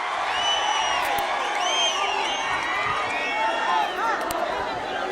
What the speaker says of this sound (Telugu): అండగా ఉంటామని గట్టిగా చప్పట్లు కొట్టి హర్షాన్ని ఆమోదాన్ని తెలియజేయాలి